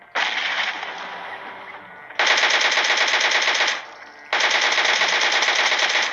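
A DP machine gun with a 3x sight fires in a battle royale video game, two long, loud sustained bursts of rapid automatic fire, each several seconds long, after a quieter opening stretch of shooting.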